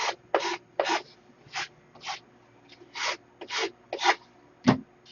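Coarse 30-grit sandpaper rasps back and forth over wood by hand, about ten short, distinct rubbing strokes in an uneven rhythm, close and fairly loud, with no talking.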